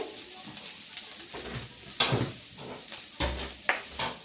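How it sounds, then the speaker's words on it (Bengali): Prawns fry in a pan under a soft crackle, with irregular stirring and scraping of a utensil against the metal and a couple of louder clanks. "দেখছেন গাই চিংড়ি মাছটা পুরো ভাজা হয়ে গেছে"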